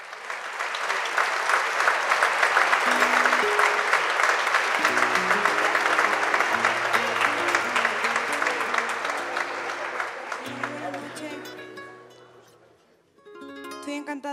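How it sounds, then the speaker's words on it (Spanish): Loud, sustained audience applause fills a flamenco festival hall in Don Benito, dense clapping continuing for over ten seconds before fading, then a few scattered claps and guitar notes. "Le damos un fuerte aplauso a Virginia González."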